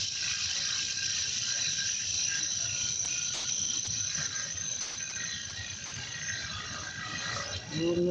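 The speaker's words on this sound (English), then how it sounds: "I'm using a bowl gouge right now." Wood turning on a lathe with a bowl gouge while making a staved bead box, giving a continuous close scraping whir with a steady bright ringing tone, and the cut changing slightly toward the end.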